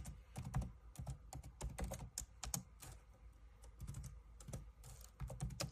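Computer keyboard typing a material name, a quick irregular run of close, crisp key clicks with brief pauses between bursts, no one speaking.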